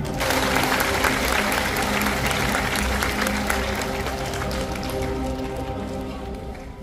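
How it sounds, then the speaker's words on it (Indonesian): Audience at a university graduation ceremony in Padang clapping loudly together, a dense sustained wave of applause that gradually thins toward the end. "Kasih tepuk tangan."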